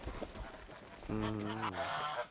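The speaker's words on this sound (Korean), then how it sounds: "거위 이리 와" A goose gives one loud, drawn-out honk near the end, after a stretch of muffled background noise and faint movement.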